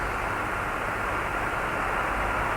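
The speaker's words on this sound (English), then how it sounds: "There's one of the chase planes up in the air." A NASA chase plane flying over Edwards Air Force Base during the 1981 Space Shuttle Columbia landing, heard as a steady, distant broadband jet roar with no talk.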